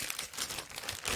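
Close, quiet crinkling of a small plastic bag holding water purification tablets for a mini survival kit, a soft continuous rustle with no talk.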